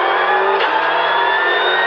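A Ford Fiesta R5 rally car, heard from inside at Rally Croatia 2015, holds a loud, steady high-revving engine note with a brief shift in pitch partway through.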